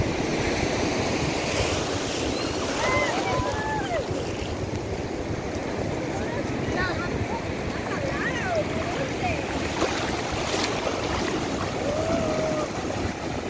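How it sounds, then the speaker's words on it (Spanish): Ocean waves break and wash up a beach where children play in the surf, a steady loud roar of surging water filling the whole stretch with faint voices mixed in. "si miran que la ola viene con fuerza, se salen corriendo"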